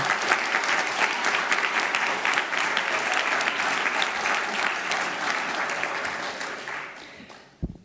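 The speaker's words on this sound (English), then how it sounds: "Let's please give another round of applause for Emerson" Sustained applause from an audience at a city council meeting honoring student award winners, a dense, even roar of many hands clapping for several seconds before it tapers off and fades near the end.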